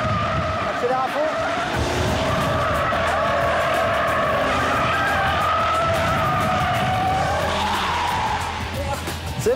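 A car skids hard under full throttle and full steering lock at a Fast Club track day, a continuous loud tire squeal with shifting pitch lasting throughout, over engine noise.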